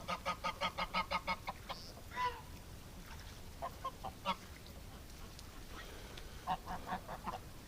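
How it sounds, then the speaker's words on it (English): A gray goose honks in a rapid run of loud, evenly spaced calls near ducks outdoors in winter, then gives scattered shorter honks and squawks over a steady background hiss. "One gray goose, he's being mean to the ducks here."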